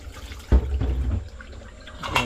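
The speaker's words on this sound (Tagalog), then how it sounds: "Makasobra ang tubig." Tap water runs in a home kitchen during chicken preparation, a close gushing splash that starts abruptly, churns unevenly for about a second, then fades to quieter trickling with a few clatters.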